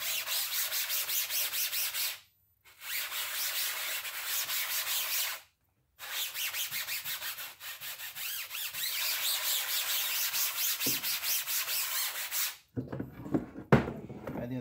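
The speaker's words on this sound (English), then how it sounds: "Let's get a scrub brush." A scrub brush works Dawn degreaser across a screen, making steady rhythmic rubbing strokes close up, broken by two short pauses and ending in a few quieter brushes.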